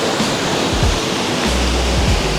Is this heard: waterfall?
yes